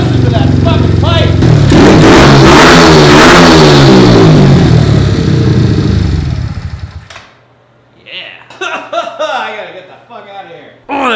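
A Kawasaki KLX110 dirt bike engine revs hard and loud through its exhaust pipe for several seconds, then drops to idle while people cheer and talk.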